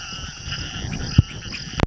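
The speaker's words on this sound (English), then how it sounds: "मेंढक संभोग के लिए एक दूसरे को पुकार रहे हैं." Frogs croaking at night on Deomali, the highest peak of Odisha, with a steady wash of insect-like buzzing throughout and one louder nearby croak standing out near the middle.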